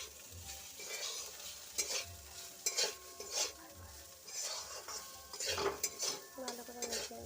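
Flattened rice pulao with boiled potato is stirred in a pan, the spoon scraping and clinking against the metal in repeated strokes over a soft continuous sizzle, close and alone with no talk.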